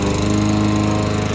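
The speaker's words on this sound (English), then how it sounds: "Mowing." A lawn mower runs loud and close, its steady buzzing engine drone continuing without a break and with no talking.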